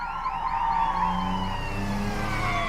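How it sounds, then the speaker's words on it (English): Wailing police sirens rise and fall in overlapping sweeps, sounding moderately distant over a low engine rumble, with no talking. "Soon he hears sirens in the distance"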